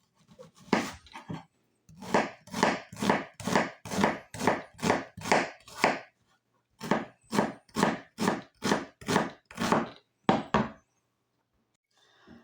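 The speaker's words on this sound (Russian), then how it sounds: "Сейчас буду мелким кубиком также нарезать лук." Knife chopping onion into small cubes for Tatar tәkә pies: two bursts of crisp, evenly spaced blade strikes on a cutting board, close and clear, separated by a short pause, with no talking.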